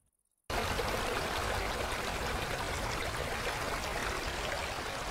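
A river stream flows through a snowless valley, a steady broadband rush of running water that starts abruptly after a brief silence and continues evenly and close.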